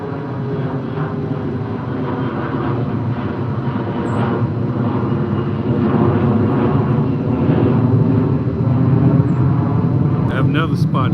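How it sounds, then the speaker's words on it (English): Propeller airplane passing low overhead near an airport, a loud steady drone and rumble that swells and holds throughout with a voice talking underneath. "Another plane."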